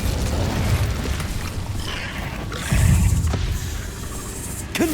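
Incendio fire spell cast in Hogwarts Legacy, heavy booming bursts over a dense roaring game soundscape, with a louder blast near the middle and sharp crackles at the end.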